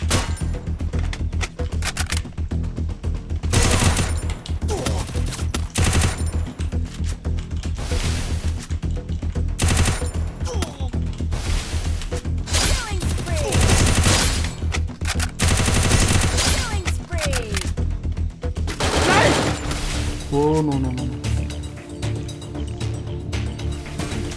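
Rapid automatic gunfire from the Free Fire video game, a solo-versus-squad battle, crackles in dense bursts almost without pause, with scattered single shots and other game effects layered throughout.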